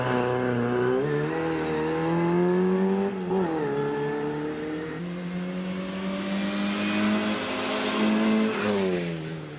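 A Mini 1380 race car accelerating at the Prescott hillclimb, its engine rising through several gear changes in a loud, sustained rasp that climbs, drops and climbs again, heard up close with no talk.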